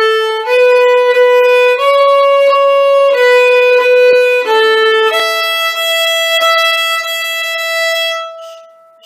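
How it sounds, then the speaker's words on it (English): Violin plays the opening line loudly at forte, a sustained bowed melody of steady held notes changing pitch every second or so, close and alone before fading at the end. "So if we play that first line forte, it'll sound like this."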